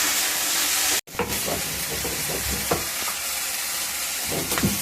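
Salted okra frying in hot oil, a loud dense sizzle that cuts out for an instant, then resumes with crackling and scattered pops and stirring clatter.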